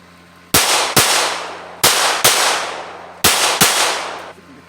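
Handgun shots at an outdoor shooting range, six sharp, loud reports in pairs, each double tap followed by a short pause and a decaying echo.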